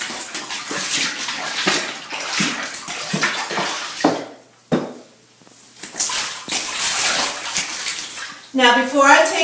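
Hand-rinsing a quilt in a bathtub of water: repeated sloshing and splashing swirls close by, pausing briefly midway, then a final burst of water movement.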